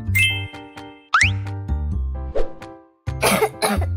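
A person coughs several times in short harsh bursts, with bright chiming tones ringing alongside and between the coughs.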